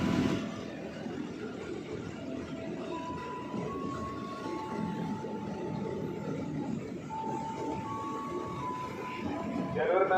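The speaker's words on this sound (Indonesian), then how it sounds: "Awas hati-hati jalur 1 dari arah barat kereta api melintas langsung." A passenger train runs straight through a railway station on track one, a continuous low rumble with rolling wheel noise throughout, and a tonal station announcement chime and a voice over it.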